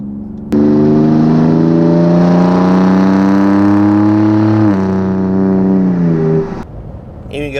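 Ford F-150 Raptor with a MagnaFlow 3-inch dual split rear exit cat-back exhaust and 5-inch black tips, revving hard with a deep, rising engine note, then settling back and dropping off, loud and close.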